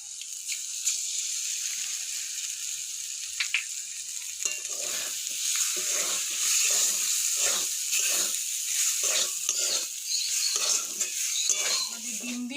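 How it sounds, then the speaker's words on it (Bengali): Egg and vegetables fry in a pan with a steady sizzle, joined from midway by a regular series of scraping stirring strokes against the pan, close and moderately loud. "আমাদের ডিম দিয়েও সবজিটা পুরো ভাজা ভাজা হয়ে গেছে"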